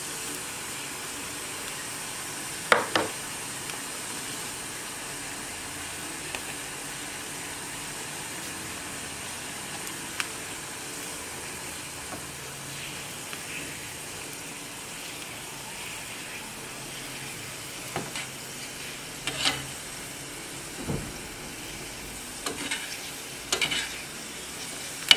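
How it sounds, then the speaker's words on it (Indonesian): Palm sugar being stirred into boiling water in a pot, a steady bubbling hiss with scattered clinks and scrapes of the stirring, moderately close, with no talking. "tuangkan gula aren tersebut ke dalam air mendidih, aduk hingga gula aren tersebut larut dalam air"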